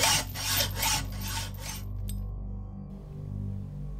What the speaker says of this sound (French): Heureusement que j'ai une scie à métaux.